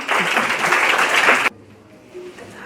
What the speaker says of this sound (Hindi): तो ठोको ताली।